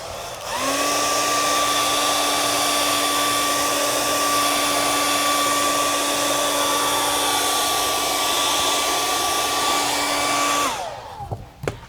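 A heat gun runs continuously on touchscreen glue of a Panasonic CF-31 panel, a loud steady blowing roar with a constant motor whine, starting up and shutting off near the end.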